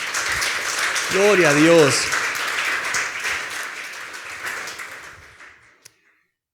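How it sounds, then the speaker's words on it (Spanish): A church congregation breaks into loud applause, with a voice calling out briefly over the clapping. The applause then fades away to silence, and one sharp tap is heard at the very end. "dale un fuerte aplauso al Señor"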